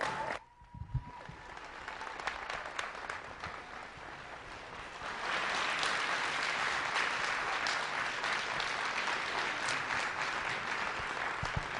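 A university audience applauds after speeches in a creation–evolution debate at the University of Arkansas, clapping building after a brief pause and then swelling into a loud, sustained, even roar of applause.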